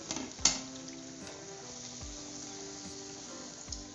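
Steady, fairly quiet sizzle of lentil fritters (dal vada) frying in oil, with a sharp clatter near the start and a few soft low knocks.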